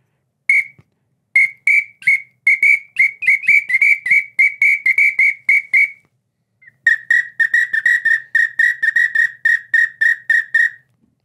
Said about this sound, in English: they have what we would call a traditional Morrisall whistle, made out of wood